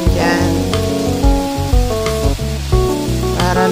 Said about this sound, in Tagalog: So, igigisa natin dyan.